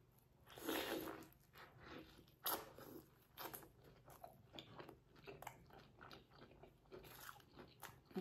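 Close, crisp biting and crunchy chewing on a fish sandwich dipped in sauce, with a loud first bite followed by steady wet chewing and smacking at moderate loudness.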